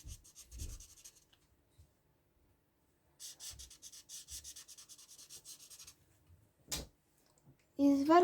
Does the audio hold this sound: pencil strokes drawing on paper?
yes